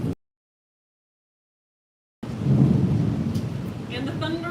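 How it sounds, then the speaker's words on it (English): Thunder rolling during a storm outside a garage, a deep sustained rumble with rain that starts abruptly after a stretch of silence and stays loud, with faint higher tones near the end. "And the thunder rolls."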